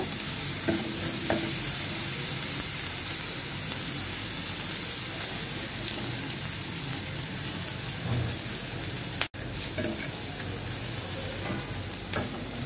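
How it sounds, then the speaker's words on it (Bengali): Loud, continuous sizzling of onions frying in a pan, with occasional stirring scrapes and a brief dropout near the end. "পেঁয়াজটা আমি একটু মোটামুটি ভেজে নিব"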